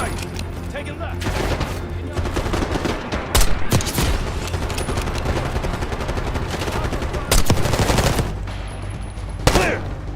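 Dense sustained gunfire in a Call of Duty Black Ops 6 firefight, automatic bursts and single shots layered continuously with sharper loud cracks and booms standing out, while voices shout under the shooting.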